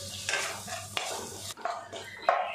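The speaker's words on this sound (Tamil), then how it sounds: "உருளைக்கிழங்கு சேர்த்துட்டு இந்த எண்ணெயிலேயே நல்லா வதக்கிடலாம்." Potato pieces sautéing in oil in a pan for a Tamil potato fry, with a steady close sizzle and several scraping stirs of a spatula, and no voices.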